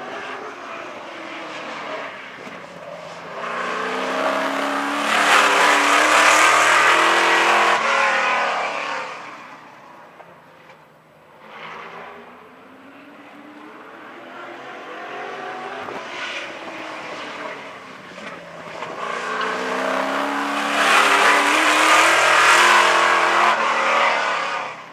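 A Lucas Oil modified race car with FAST EFI fuel injection laps Havasu Speedway, its engine roar swelling loud as it passes close, fading away, then building again on the next lap.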